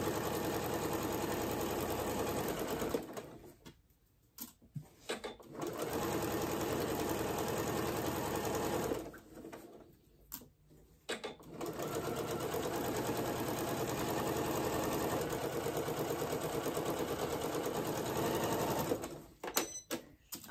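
A sewing machine stitches pajama pants, sometimes running over pins, in long steady whirring bursts separated by brief pauses, close and alone without talk.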